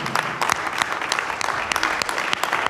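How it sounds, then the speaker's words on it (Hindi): At an art exhibition opening in a Hauz Khas, New Delhi gallery, the crowd applauds the artists, steady clapping with sharp individual claps standing out close by. "जोर से ताली बजाएं प्लीज़।"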